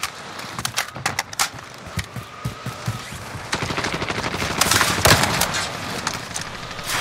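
Rapid bursts of video game gunfire crackle in irregular volleys, with sharp single shots giving way to denser, louder automatic fire that swells toward the middle and carries on to the end.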